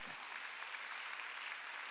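A congregation claps during a Korean Wednesday church worship service, a continuous dense patter of many hands held at an even level throughout.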